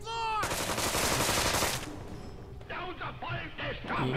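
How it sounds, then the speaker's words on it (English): Gunfire in the South Park: The Stick of Truth video game, a loud rapid burst of shots lasting over a second, then quieter game sounds and voices. "Shoot the floor."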